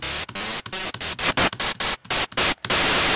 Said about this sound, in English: I'm going to load up white noise, but I'm gonna load up noise loop